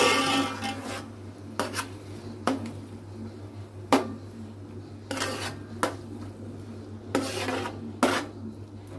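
A spoon scraping and clattering against a metal pan while ginger-garlic-onion paste is mixed into a fish curry, with repeated sharp clinks and gritty rubbing strokes at an uneven pace, close and clear, no talking.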